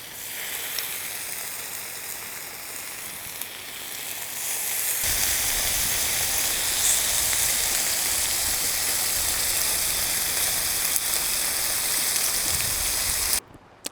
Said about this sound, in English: But today we're going to make some bacon.